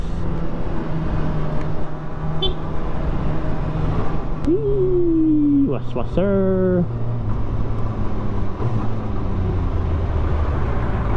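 Road traffic rushes past a rider on a 2024 Kawasaki ZX6R motorcycle fitted with an Arrow exhaust, a steady loud roar with a passing vehicle's rising engine whine in the middle, while a person speaks a few words.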